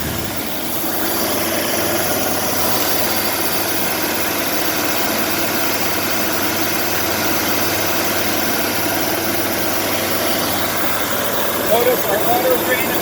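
A Nuvair Voyager IV compressor fills scuba tanks with a steady, loud mechanical drone and hum that holds even throughout, with a few brief knocks near the end.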